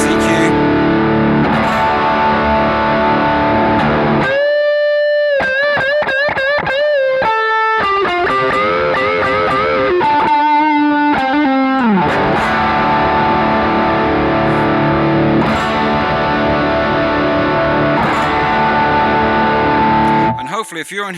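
Heavily distorted electric guitar through a BOSS GT Vox AC30 amp model with EQ applied plays sustained chords and then a run of bending, sliding notes, loud and saturated throughout.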